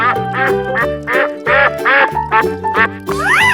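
Repeated cartoon-style duck quacks, about six or seven bursts in an uneven rhythm, loud and close, with a rising squeaky effect near the end and no talking.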